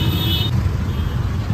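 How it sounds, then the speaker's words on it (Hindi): Dense road noise from a traffic jam on a street in Tripura: loud, steady engine rumble and tire roar up close, with a brief high horn-like tone at the start. "सामने पर, ट्रैफिक जाम"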